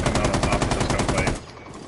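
Video game gunfight gunfire, a rapid automatic burst of evenly spaced loud shots, close and sharp, cutting off abruptly after about a second and a half.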